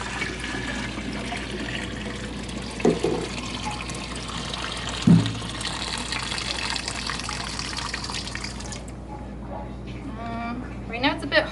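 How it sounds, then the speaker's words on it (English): Hot natural dye poured out of a pot, giving watery splashing and trickling with a couple of louder glugs midway and a thinner dribble near the end, set against a faint background hum. "So I'm just going to pour this dye out."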